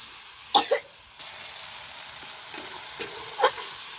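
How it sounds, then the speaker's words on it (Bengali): Spice paste with red chilli powder and a splash of water fries in oil in a pan, a steady close sizzle broken by a few sharp spits and pops as the water cooks off. "পানিটা প্রায় শুকায় গেল তেলটা উপরে চলে আসতেছে মানে মশলাটা প্রায় ভাজা ভাজা হয়ে যাচ্ছে"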